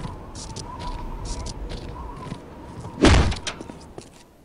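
A lamp knocked over in the video game Postal 2, heard as a single dull thud near the end of a low ambient background hiss, moderately loud and close.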